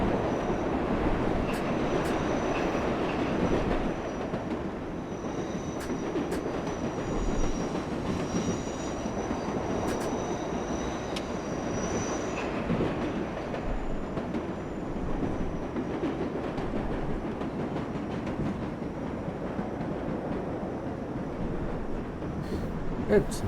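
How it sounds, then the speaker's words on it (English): An express New York subway train rolls past in the World of Subways 4 simulator, with steady rumbling wheels, rail clatter and a thin squeal, fairly loud and continuous throughout, under occasional talk. "Oh, here comes the express train"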